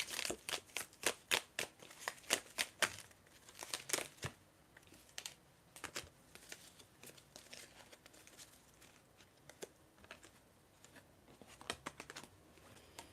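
Fallen tarot and tea leaf cards are gathered up by hand, a quick run of crisp slaps and shuffling taps near the mic, then sparser, quieter clicks and rustles.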